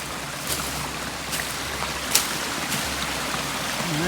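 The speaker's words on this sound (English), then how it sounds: "Nice little stream with a waterfall." A small forest stream with a little waterfall makes a steady, close rushing and gurgling wash, with no voices present.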